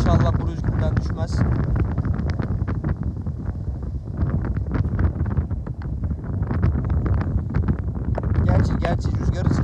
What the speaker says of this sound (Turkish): rüzgarın sesi size kadar ulaşıyordur büyük ihtimalle